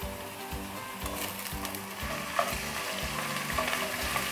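Onion and garlic paste frying in oil in a pan for Afghani Kabuli pulao, with a steady soft sizzle and repeated rhythmic scrapes of stirring. Heard up close and fairly quiet, with no voices.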